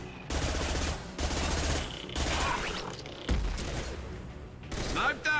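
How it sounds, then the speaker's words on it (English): Sniper rifle fire in Mass Effect 2, with four or five heavy, booming shots spaced about a second apart, each with a sharp attack and a short decay, and faint game effects between them. "Firing a high-impact shot."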